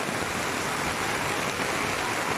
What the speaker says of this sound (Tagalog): tuloy-tuloy ang ulan. Buhos ng ulan. Ang lakas.